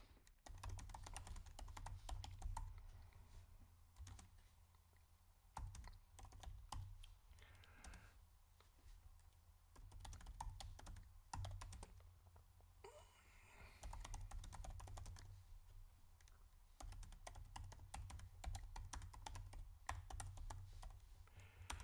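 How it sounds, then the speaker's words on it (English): Typing on a computer keyboard, rapid irregular clicking of keys in bursts with short pauses, close and fairly quiet throughout, with occasional speech underneath. "Now I can start typing."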